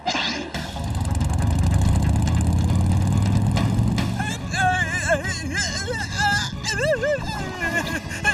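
A runaway motorcycle in a Motu Patlu cartoon roars with a steady engine drone that fades as warbling music and cartoon effects take over, and voices talk over it.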